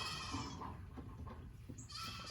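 Goats bleating outdoors, a few faint, scattered calls over a soft, noisy background with no talking.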